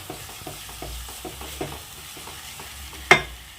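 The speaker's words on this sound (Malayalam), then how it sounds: "അരപ്പ് ചേർത്ത് കൊടുത്തിട്ട് നന്നായിട്ടൊന്ന് മിക്സ് ചെയ്ത് കൊടുത്തിട്ടുണ്ട്" Chicken curry frying in a pan as a ground roasted-coconut masala paste is stirred in: soft, rhythmic scraping strokes over a low sizzle, with one sharp clank near the end.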